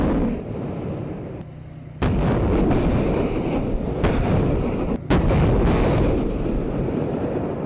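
Artillery shelling a Russian weapons depot, a dense continuous roar of firing and blasts with sudden loud bursts and cracks, heavy and sustained at mid distance.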